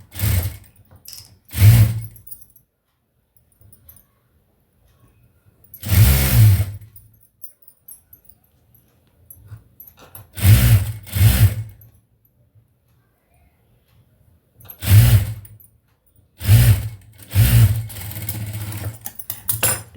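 A sewing machine stitches a blouse in short repeated bursts of whirring, each run lasting a second or so and separated by quiet pauses, close and fairly loud.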